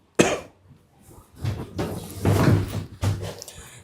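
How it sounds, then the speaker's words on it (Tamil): A door is pulled shut and latched indoors, a sharp knock followed by several rattling, scraping clatters of wood and metal, fairly close. "நம்ம தாப்பா போட்டுக்குவோம் கதவை."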